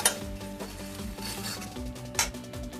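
Cumin powder and spices frying in a pan for a banana blossom dish, with a soft sizzle under repeated stirring scrapes and light clinks of a utensil against the pan, close and steady.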